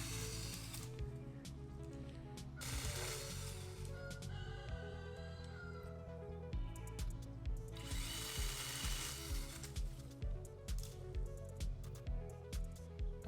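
Battery-powered DEWALT 20V MAX XR pole saw cutting through branches outdoors, a steady close motor whine with repeated bursts of loud chain cutting, rising and falling as each limb is trimmed.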